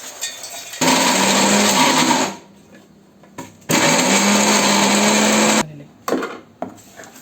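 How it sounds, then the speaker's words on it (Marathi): A kitchen mixer grinder whirs through two loud, close bursts while grinding fried edible gum for ladoo, with shorter blips and pauses between runs. "आता आपण हा सगळा पूर्ण मिक्सरमध्ये बारीक करून घेऊया."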